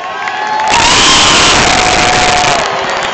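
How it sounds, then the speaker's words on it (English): Loud crowd cheering and applause for a team at a 1984 reunion, swelling in after a brief pause and holding as a dense roar with shouts, then easing slightly toward the end. "Ladies and gentlemen, let's once more give a round of applause to this big team."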